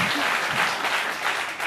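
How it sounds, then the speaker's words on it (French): Studio audience applauding on a French midday talk show, a steady dense burst of clapping that fills the short moment without voices. "Qu'est-ce qu'on applaudit?"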